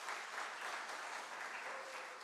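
A church congregation applauds during a Sunday worship service in Korea, the clapping steady and dense throughout, a broad wash of many hands close and loud with no voices above it.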